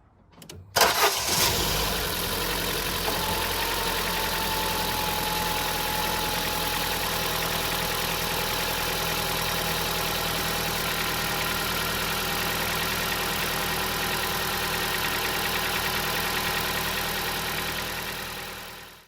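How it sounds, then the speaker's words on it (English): Car engine cranking and catching after a gasket repair, then settling into a steady, even idle that runs loud and continuous for over fifteen seconds before cutting off. "Start the engine."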